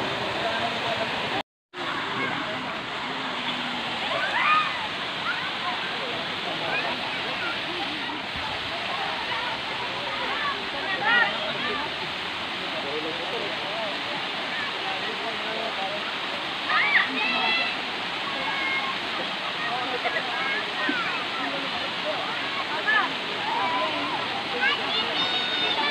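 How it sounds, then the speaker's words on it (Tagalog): River in Cavite flowing steadily in a broad, continuous rush of water with small splashes and gurgles throughout, with one brief dropout near the start. "ililibot ko kayo dito sa ilog ng Cavite"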